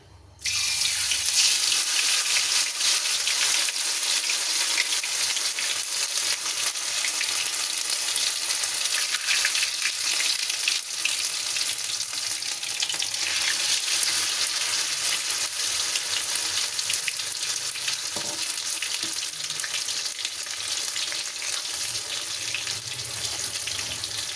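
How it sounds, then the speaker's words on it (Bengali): Coated ridge gourd pieces sizzle steadily in hot oil over medium heat, a dense, continuous frying hiss that stays loud and even throughout with no talking. "কোট করে নিয়ে আমি এটাকে তেলে ছেড়ে দেবো।"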